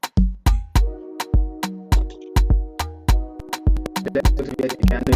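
Afrobeat piano chords with a deep added bass line in a spicy Afrobeat groove, punchy repeated hits with sharp attacks and short decays, played alone with no voices.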